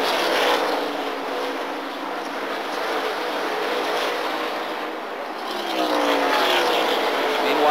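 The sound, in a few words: stock race cars racing on track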